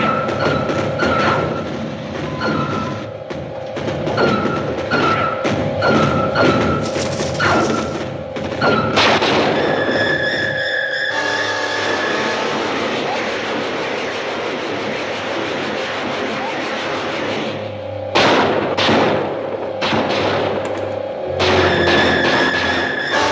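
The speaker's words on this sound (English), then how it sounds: "The artillery doesn't penetrate." Artillery guns firing at flying saucers in a 1956 science-fiction film battle scene. Heavy booms and thuds come in bursts, mixed with a dense, mechanical rumble and a long wash of noise in the middle.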